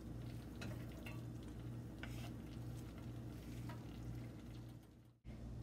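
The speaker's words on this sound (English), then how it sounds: "Once your butter has melted, throw in your onions and let them cook for 3 to 5 minutes or until soft." Chopped onions softening in melted butter in a pan for a cheddar soup, giving a steady, close sizzle with occasional stirring scrapes and a continuous low hum beneath, cutting out abruptly near the end.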